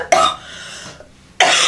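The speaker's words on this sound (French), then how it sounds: "j'ai trop le seum de tousser" Two harsh, loud coughing bursts from a woman with a cold while she does her makeup, the first brief and the second cut off, separated by a short quiet gap.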